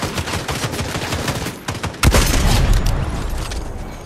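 Gunfire in Fortnite, with dense rapid shots crackling through the first half, then a heavy boom near the middle as a sniper rifle fires, leaving a loud rumbling tail.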